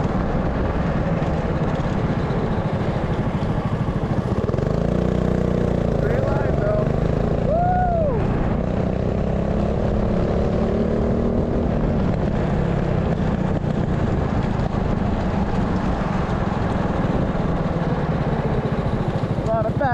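A Predator 420cc engine on a rental go-kart runs steadily through the whole stretch, a loud, close, rough drone with a poor muffler that rises and falls slightly as the throttle changes.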